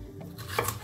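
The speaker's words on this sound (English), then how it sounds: "I'm going to chop my bell pepper" A kitchen knife cuts through a bell pepper with a couple of quick, soft chops, close by, against a quiet room with no talking.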